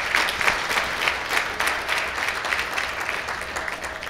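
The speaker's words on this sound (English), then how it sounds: "please give him a round of applause" At a Somali graduation and scholarship program, the audience applauds a community relations commissioner with a continuous, moderately loud crowd of clapping hands, even in rhythm and level throughout.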